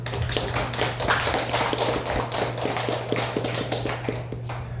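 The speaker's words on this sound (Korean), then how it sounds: "하나님께 우리 감사의 박수 한번 보내드립니다." A church congregation claps at a Sunday service, with dense, uneven hand claps running steadily throughout over a constant low hum, moderately close and without speech.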